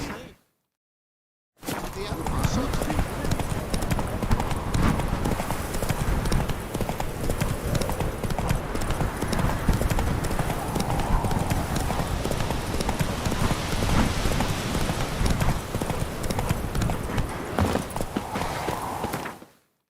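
Roach, the horse in The Witcher 3: Wild Hunt, trots along in a steady rhythmic clip-clop of hooves, loud and close, with game ambience layered underneath after a brief silent start.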